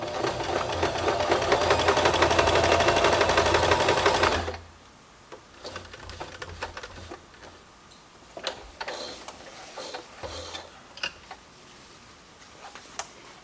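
A sewing machine stitches appliqué fabric, a loud rapid rattling hum for about four seconds, then stops, leaving soft clicks, taps and fabric handling sounds close by.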